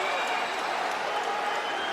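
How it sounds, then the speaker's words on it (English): A UFC Fight Night crowd applauds during the Chan Sung Jung vs Dustin Poirier bout, a dense steady wash of clapping and crowd roar that fills the arena without a break. "And the crowd very appreciative here."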